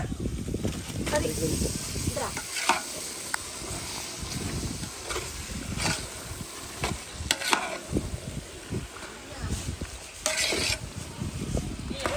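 Meat curry for a festival-feast biryani is stirred in a large pot: repeated scraping, sloshing strokes with a steady sizzle underneath, close and fairly loud, with voices now and then in the background.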